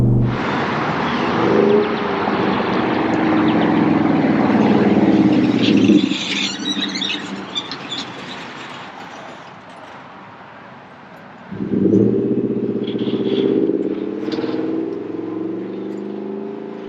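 A 2021 Ford F150 with the Max Tow package and tow shocks pulls a towed camper, its engine rising loud in two separate stretches of driving with a quieter lull between them.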